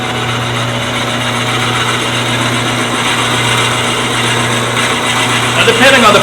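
A wood lathe drives a drill bit held in a Jacob's chuck into a vase blank, producing a steady motor hum with a constant tonal drone, with a brief burst of rougher cutting noise near the end.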